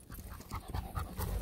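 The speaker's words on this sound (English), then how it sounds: "Ayan, meron siyang dog." A dog pants close by, a quick rhythmic series of breathy huffs, fairly quiet and heard alone with no talk.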